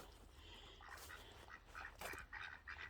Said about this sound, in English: See that noise? That's the noise that a drake makes.